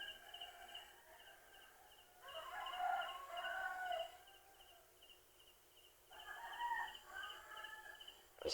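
A rooster crows twice in a rural countryside setting, each crow a drawn-out call at moderate distance, over a constant high insect drone and faint background hum.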